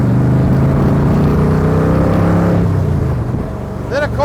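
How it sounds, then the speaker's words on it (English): A 1965 Shelby Cobra roars through its exhaust pipes, loud and close, with engine pitch sliding down as it downshifts and then blipping briefly near the end. "Just downshifting nice, making those pipes sing."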